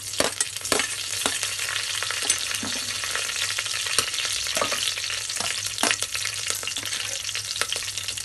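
Onion and green chili frying in oil for egg biryani, a close steady sizzle broken by repeated sharp clicks of a spatula stirring against the pan.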